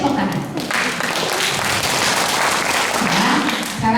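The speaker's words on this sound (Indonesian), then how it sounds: "Tepuk tangan." An audience claps together during a storytelling workshop session, a dense, continuous burst of applause lasting throughout, close and steady, with faint voices mixed in.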